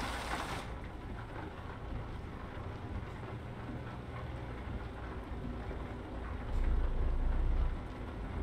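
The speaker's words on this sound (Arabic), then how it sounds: "شغال الرعد، شغال مطر." Steady rain with rolling thunder in the Euro Truck Simulator driving game, a continuous broadband wash that swells into a deep low rumble near the end.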